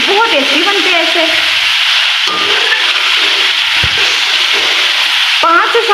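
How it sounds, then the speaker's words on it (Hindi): Chicken frying in a pan for biryani gives a loud, continuous sizzle with scraping stirring strokes throughout, while someone talks over it. "5 से 7 मिनट मैंने इसे अच्छी तरह भून लेना है।"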